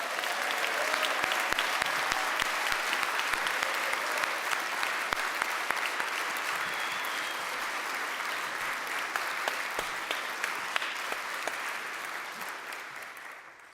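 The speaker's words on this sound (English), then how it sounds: "please give me a round of applause for Daniel Ellsberg" Sustained audience applause for Daniel Ellsberg at a public forum on NSA surveillance, dense steady clapping from a large crowd that holds strong for most of the stretch before tapering slightly at the end.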